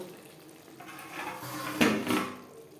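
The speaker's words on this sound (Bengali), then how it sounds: "ধনে পাতা লাউর তরকারির সাথে বেশ ভালো করে মিক্সড করে দেব এক মিনিট নাড়াচাড়া করে নেওয়ার পর গ্যাসের ফ্লেমটা অফ করে দেব" A spoon stirs bottle gourd and rui fish curry with coriander leaves in a pan, giving a faint scrape and clatter that peaks briefly, close and quiet.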